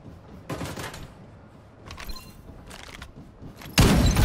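AK rifle fire in the Farlight 84 video game, heard as several short bursts of shots separated by pauses, ending in a louder, denser burst at close range.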